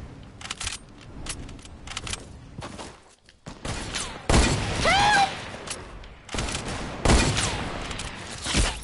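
Video game gunfire with sniper shots, broadband bursts clustering in several loud stretches with sharp transients, set against busy game sounds and no clear talk.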